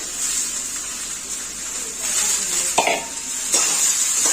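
Soaked rice khichdi being stirred in a pan, with soft scraping strokes and a few sharper knocks over a steady, close sizzling hiss.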